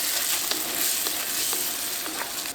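Pancetta, basil and tomato sauce for penne alla vodka sizzle steadily in a pan, a dense, even crackling hiss with small spits, close and alone with no talk.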